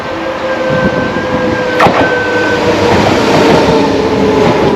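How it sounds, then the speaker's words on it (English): A train pulls into a station outside Paris, its steady rumble and clatter of wheels filling the scene from nearby, with a brief squeal and a high tone fading in and out over continuous rail noise. "the train coming."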